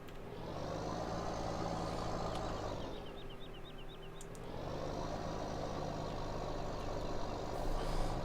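A farm vehicle reverses out of a shed in the Knaveswell Farm video game, its engine idling and droning steadily up close while a quick run of reversing beeps chirps through the middle.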